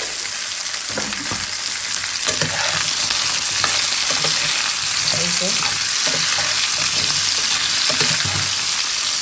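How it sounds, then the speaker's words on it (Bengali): Eggplant slices frying in oil already yellowed from frying fish, with a little salt added, make a steady loud sizzle, broken by occasional soft clinks and scrapes of stirring. "এখন এটা ভাজা হতে থাকুক"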